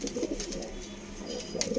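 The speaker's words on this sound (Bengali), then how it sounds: "তো এই সমস্ত পায়রাই আপনাদেরকে ধরে দেখাবো" Pigeons in a loft housing paired birds with chicks, including Kalanka and Chotiyal breeds, coo softly in low repeated murmurs that run through the whole stretch, close by with no talk.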